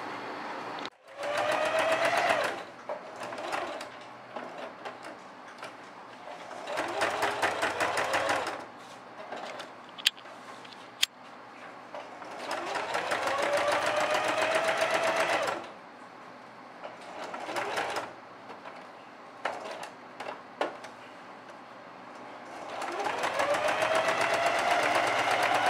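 A sewing machine stitches faux leather for a jumper in several bursts of fast, whirring stitching separated by pauses, with small clicks and handling noises between the runs.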